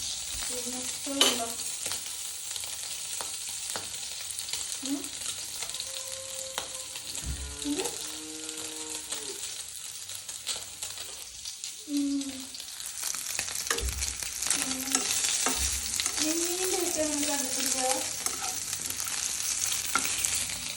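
Food is stir-fried in oil inside a pressure cooker. A continuous sizzle runs throughout, broken by repeated scraping stirs and metallic knocks, with faint tonal background sounds behind it.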